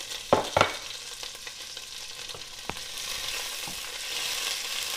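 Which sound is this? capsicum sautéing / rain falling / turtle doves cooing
capsicum sautéing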